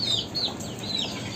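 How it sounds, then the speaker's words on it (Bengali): A black hen brooding on eggs gives soft clucks with thin high peeping notes, close and short, over a faint background hiss. "যেই কালো মুরগিটা আমরা দেখেছিলাম ডিম নেওয়া বসছিলো"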